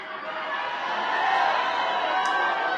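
Large crowd shouting and cheering together at a Duterte campaign rally, a loud, steady roar of many voices with a couple of brief whoops rising above it.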